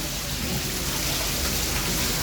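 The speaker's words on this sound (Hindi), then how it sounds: "इतनी तेज़ बारिश हो रही है।" Heavy rain pours steadily, with water streaming off a roof in a dense, continuous hiss and splash close by, no voices over it.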